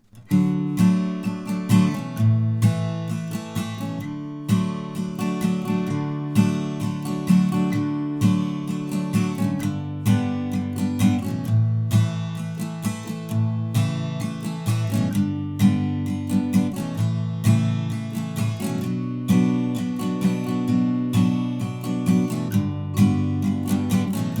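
An acoustic guitar strums the verse chord progression of a song in a steady rhythmic pattern, each chord rung out, clear and close with no voices.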